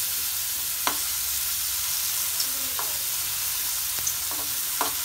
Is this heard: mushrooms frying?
yes